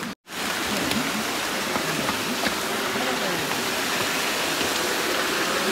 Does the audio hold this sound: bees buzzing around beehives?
no